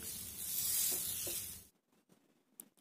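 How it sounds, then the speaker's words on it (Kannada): Ragi dosa batter sizzles and hisses on a hot griddle, a bright, steady frying hiss for over a second that cuts off abruptly, followed by a few faint scraping taps. "ಕಾದಿರೋ ಹೆಂಚು ಮೇಲೆ ಒಂದು ಸ್ಪೂನಷ್ಟು ದೋಸೆ ಹಿಟ್ಟನ್ನು ಹಾಕಿ ನಿಧಾನವಾಗಿ ಈ ರೀತಿ ತಿರುಗಿಸ್ಕೊಳ್ಳಿ"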